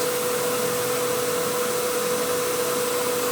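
A vacuum cleaner runs steadily with a loud, constant whir and a steady high hum while cleaning an Acer X1340WH DLP projector, no other sounds.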